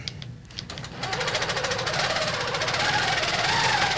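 A sewing machine stitching a quilt starts up after a brief pause and runs at a fast, even rhythm of needle strokes, close and steady to the end.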